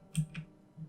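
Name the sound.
pressing a key on a computer keyboard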